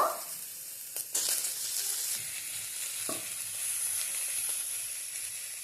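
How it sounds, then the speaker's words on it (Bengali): Tomatoes sizzle as they dry-roast in a dry pan for chutney, a soft continuous frying hiss with a few scraping stirs and clinks near the start. "টমেটোগুলো শুকনো খোলায় এটাকে একটু ভেজে নেব"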